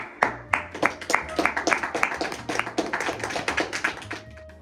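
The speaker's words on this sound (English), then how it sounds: "Just clap for no reason." A small group claps for no reason, a loose irregular run of sharp, close hand claps with some overlapping voices in the background.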